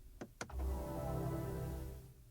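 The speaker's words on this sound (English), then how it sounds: "this is the new electric startup sound. It will be the same for all BMW electric vehicles. And when you shut it off again" BMW iX3 electric car shutdown sound designed by Hans Zimmer: a couple of quick soft tones followed by a low, sustained synthetic hum that fades out, quiet and heard on its own.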